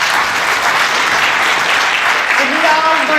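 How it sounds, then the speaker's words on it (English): Loud, dense applause from a chamber breakfast audience for panelists, a sustained close wash of many hands clapping, with faint voices rising near the end. "One more round of applause for our panelists."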